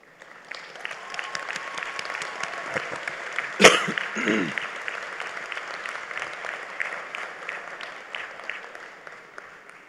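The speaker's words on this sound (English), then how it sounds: "I'd like to give them a round of applause as well." Sustained applause from a university commencement audience at a Class of 2021 ceremony, a broad steady wash of many hands clapping through the whole stretch, with a brief louder burst near the middle.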